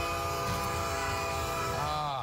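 Train horn sounding steadily over the rumble of a passing train in news footage, loud and continuous, with the horn's pitch dropping near the end as it passes.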